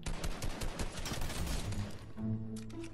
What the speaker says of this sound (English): Is that somebody shooting at you?